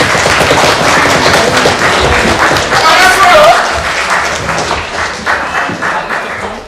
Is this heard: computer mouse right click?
no